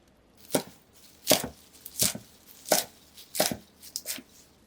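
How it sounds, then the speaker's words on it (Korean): Knife chopping green onion and chicory on a cutting board: about seven crisp, sharp chops at an uneven pace, close and clear, with no talking. "대파는 녹색 부분으로 대강 썰어주세요."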